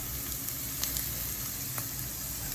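Brussels sprouts seasoned with crushed red pepper sizzle steadily in a hot pan as they are stirred, a continuous close frying hiss with a few faint utensil scrapes and no talking.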